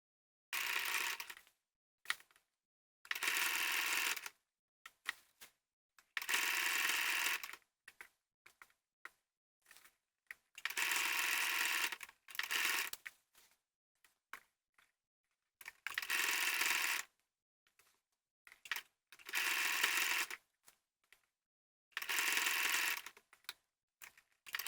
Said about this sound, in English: now I'm going to sew all the way around the sleeve hem again.